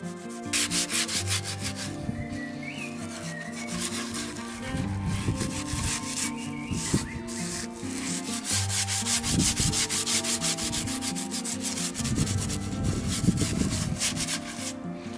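Hard, rhythmic scrubbing of paint stripper off a wooden chair during restoration, a close, continuous abrasive rubbing with steady back-and-forth strokes and no talk.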